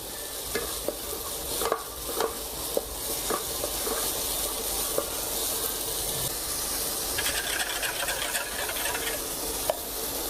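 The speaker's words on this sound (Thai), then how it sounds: "ช่วงเฟรมไวน์ก็เปิดให้ไฟแรงนิดนึงนะครับเผาไหม้ไล่แอลกอฮอล์" Red wine flambéing in a pan over high heat to burn off the alcohol for a steak gravy, a steady close hiss and sizzle with light scraping stirs and occasional utensil taps throughout.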